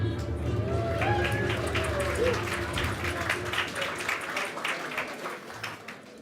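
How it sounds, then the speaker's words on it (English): Applause from an audience at the Rising Stars Awards celebration night, welcoming the MC, a business news CEO; steady moderate clapping mixed with crowd murmur and some voices, thinning slightly toward the end. "thank you for that very nice light smattering of applause"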